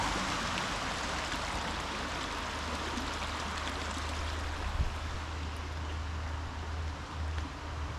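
A creek rushes and burbles continuously close by in a western Pennsylvania state park, a steady broadband flow with no voices.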